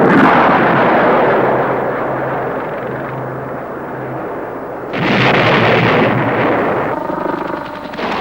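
A Cobra attack helicopter launching a TOW missile, a loud sustained roaring rush with a low engine drone beneath it, then a second surge of blast and rumble midway through, all without voices.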